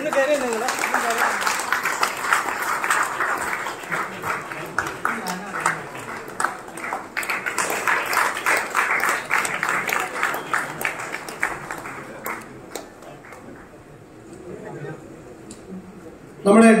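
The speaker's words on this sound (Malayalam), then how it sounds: "ഒരു ബിഗ് കൈയടി." Applause from the audience at a camera club family meet, rising as a broad wash of clapping beside a speaker's voice, then thinning out toward the end.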